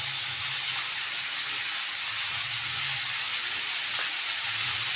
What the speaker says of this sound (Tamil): உப்பு சேர்த்தா சீக்கிரம் வதங்கிடும் வெங்காயம், தக்காளி.